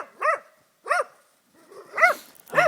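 A dog barks four times up close, the loud sharp barks spaced irregularly with short quiet gaps between them.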